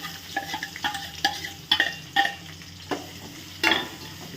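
Sliced onions with curry leaves and green chilies fry over a low flame in a pan for a Telangana-style chicken gravy curry, a soft sizzle broken by repeated scraping stirs of a spoon against the pan.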